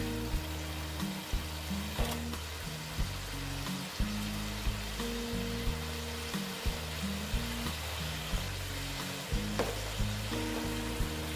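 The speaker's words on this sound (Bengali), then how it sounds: "এখন আমি মাছগুলো দিয়ে দিচ্ছি।" Pomfret fish pieces sizzle steadily in hot oil in a home kitchen while cooking a spicy pomfret curry, a continuous crackling fry under a tonal background melody, with faint clicks now and then.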